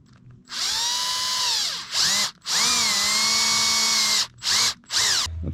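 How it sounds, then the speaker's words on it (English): A power drill whines loudly in several bursts while drilling a hole in a Sportster motorcycle's metal primary cover, rising and settling in pitch as it bites in, with short pauses between pulls of the trigger. "Drilling the hole, because you don't want to overdo it."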